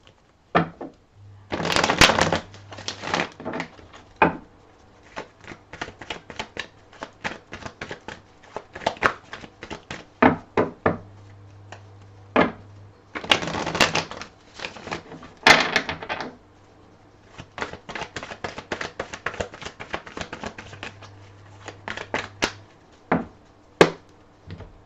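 A tarot card deck being shuffled by hand, repeated riffles and flicking bursts coming in irregular clusters with pauses between, close and clear with no talk.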